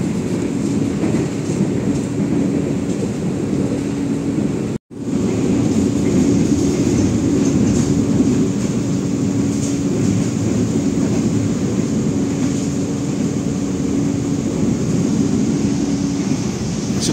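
KA Argo Parahyangan passenger train rolling along rails beside a road, a steady loud rumble with a sustained hum that drops out briefly once, then continues unbroken.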